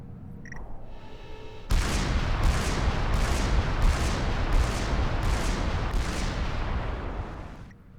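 Artillery units firing in the strategy game Supreme Commander 2: a steady barrage of booming shots, about eight evenly spaced heavy blasts over continuous rumbling fire, loud and close after a brief quiet start.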